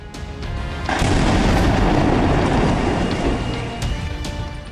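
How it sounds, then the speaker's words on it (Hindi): A bomb blast outside the CRPF school in Rohini, Delhi, heard as a deep, heavy boom that swells and rumbles for several seconds with loud low roar and rattling, close and dominant. "यह धमाका दिल्ली के रोहिणी के CRPF स्कूल के बाहर हुआ था।"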